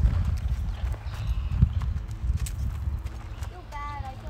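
Horse hooves clip-clop in a steady rhythm as the horse canters at a riding barn, close and fairly loud, with a short whinny-like sound near the end.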